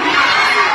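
Crowd of fans shouting and cheering at a mall show in SM City Masinag, a dense, loud, steady roar of many voices for under a second.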